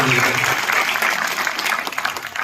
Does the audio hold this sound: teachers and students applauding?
yes